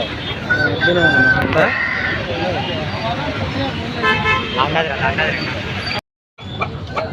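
A rooster crows a couple of times amid a busy weekly village market scene of people talking, with a vehicle horn tooting nearby.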